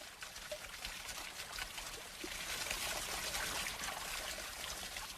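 Water trickles and pours steadily in a mountain setting in Papua, where hollowed-out bamboo is used to carry it, a continuous soft splashing wash with no voices.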